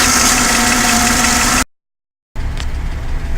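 Engine of a Ford with a BTR M74 four-speed automatic transmission, heard on a test drive after a transmission fluid change: a steady loud mid-pitched drone that stops abruptly, then resumes after a short silence.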